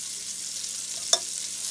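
Salmon frying in a skillet gives a steady, quiet broadband sizzle, with one brief clink or scrape near the end and no talking.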